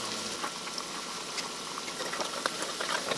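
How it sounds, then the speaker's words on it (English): Steady, crackling sizzle of Chinese chili oil in a pan, continuous broadband hiss with small pops scattered throughout, close and fairly loud. "now that it's sizzling like this, I think I'll give it 1 more minute"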